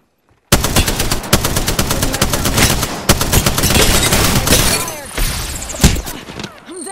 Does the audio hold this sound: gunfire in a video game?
yes